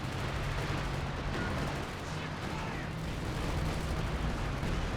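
A grenade explodes amid gunfire in a 4v4 Company of Heroes 2 battle on Hill 400. A dense, continuous wall of loud battle noise with booms and shots runs throughout.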